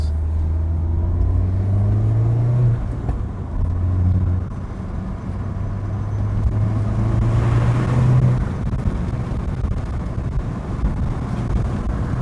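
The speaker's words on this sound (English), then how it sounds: "There's a little tunnel coming, so I'll open up the window a bit." A 2011 Mini Cooper JCW hatchback drives through a short tunnel with a window open, giving a steady, loud engine drone and rushing wind roar that swells in the enclosed space, with no talk.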